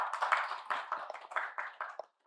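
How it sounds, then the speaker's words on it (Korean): Scattered applause from a small audience at an academic conference on local councils: sparse, uneven hand claps that are fairly quiet and close, thinning out and briefly stopping near the end. "박수를 치셔야 되는데"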